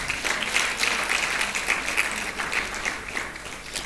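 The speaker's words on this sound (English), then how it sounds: "Please, can we give another round of applause?" Applause from an audience at a governance forum in Abuja, a brisk, crackling patter of many hands clapping at steady strength for a few seconds.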